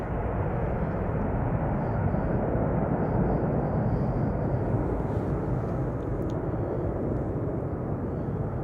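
Cargolux cargo aircraft taxiing at Schiphol Airport, a broad constant jet engine rumble and roar at a distance, steady and unbroken throughout.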